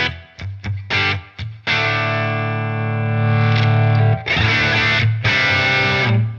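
Distorted electric guitar through a Tonex pedal plays a few choppy muted stabs, then rings out with sustained, heavily saturated chords that swell louder.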